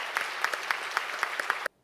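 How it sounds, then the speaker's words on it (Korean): Audience applause at a university president's inauguration ceremony at Handong Global University, a dense burst of clapping lasting under two seconds that cuts off abruptly into silence. "다시 한번 큰 박수 부탁드리겠습니다"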